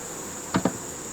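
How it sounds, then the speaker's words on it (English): A honey bee buzzes close to a beekeeper working a hive in the late evening, a thin steady whine with two short loud bursts as it darts past the microphone. "that bee does not like me"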